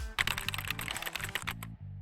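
Fast typing on a tenkeyless custom gaming keyboard with sound-dampening material inside, a dense run of close, crisp keystroke clicks over a low musical background, no talking.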